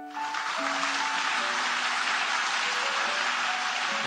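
An audience gives a standing ovation to an elderly gentleman walking onto a stage, sustained dense applause that stays steady and even throughout, heard from within the hall at moderate volume.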